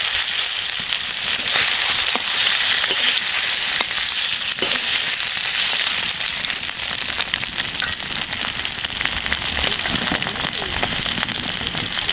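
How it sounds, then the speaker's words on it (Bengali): Country chicken eggs frying in a pan for egg bhuna, a loud, dense, continuous sizzle with faint stirring clicks throughout. "এবার ডিমগুলো ভেজে নেব।"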